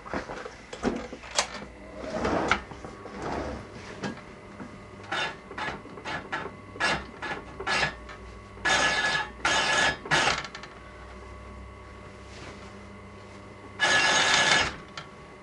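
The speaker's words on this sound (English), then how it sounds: "I'm now going to hem the curtain on my lifesaver machine" A Lifesaver sewing machine hems a bespoke curtain in short whirring bursts of stitching, separated by pauses and soft handling clicks, close by.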